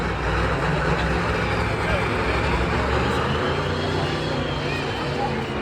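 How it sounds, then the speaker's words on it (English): A loud drag car engine at a motorsports park event, a dense, continuous roar holding steady throughout with a crowd murmur behind it. "Sounds like a drag car, don't it?"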